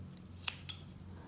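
A knife cuts a V notch into a small carved wooden squirrel, giving two short, crisp slicing ticks over a steady low hum, close and fairly quiet.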